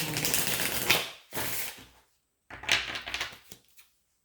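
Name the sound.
shuffling tarot cards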